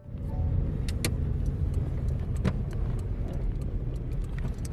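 Steady low road rumble and engine drone from inside a Daewoo Lanos on the move, with a few faint clicks and rattles over the constant noise.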